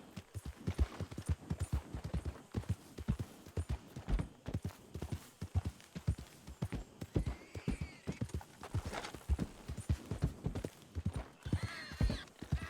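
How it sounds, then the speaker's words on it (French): Horse hooves clip-clop steadily in the video game Red Dead Redemption 2, a long run of rhythmic hoofbeats at a moderate pace with faint background ambience. "Ok, j'ai un cheval à moi qui vient là."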